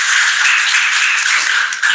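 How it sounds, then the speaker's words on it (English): Applause during a court session, a brief dense burst of clapping that stays loud and even throughout, sounding compressed and close. "So let's give a round of applause."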